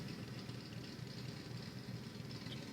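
A truck engine idles in a video game with a steady, low, rumbling drone that stays even and moderately quiet throughout, with no talking.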